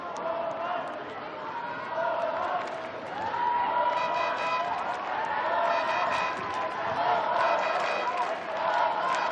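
An indoor hockey crowd at the men's World Cup final in Germany, Netherlands against Austria, fills a hall with a continuous roar and surging cheers, while a commentator speaks over it.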